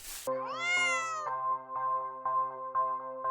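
A cat meows alone and close, one long rising-and-falling yowl followed by a steady held tone broken by several short repeated pulses.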